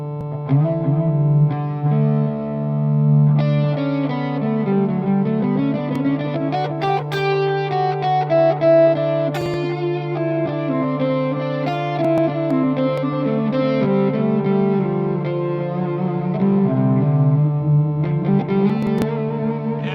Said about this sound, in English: that sounds a lot like my guitar did.